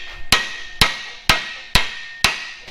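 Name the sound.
hammer striking a steering knuckle to remove it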